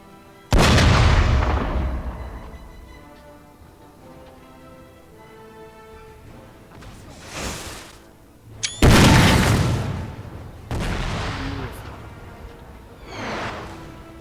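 Artillery pieces firing in the Napoleon Total War siege battle: loud deep booms, one starting the clip and another near nine seconds, each trailing off into rumble, with smaller distant blasts between and after.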